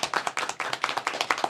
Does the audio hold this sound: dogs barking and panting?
no